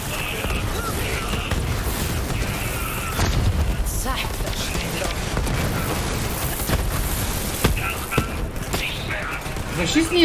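Grenade explosions and gunfire in Borderlands 3 combat: dense, continuous booms and bursts stacked in rapid succession, loud throughout, with a person talking over the fighting.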